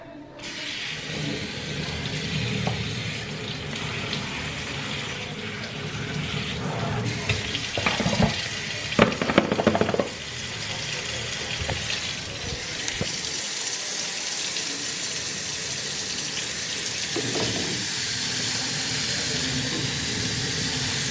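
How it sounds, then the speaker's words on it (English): Tap water runs steadily into a sink with a constant hiss and splashing, occasional clinks and handling sounds as something is rinsed under it. "now I'm gonna take them over and I'm going to rinse them in cool water."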